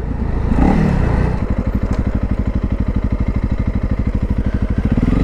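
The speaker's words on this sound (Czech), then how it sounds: "Ale musím niekde odparkovať motorku." Motorcycle engine idling close by with a steady rapid putter, after a brief louder rev at the start, during a motovlog ride near an abandoned building.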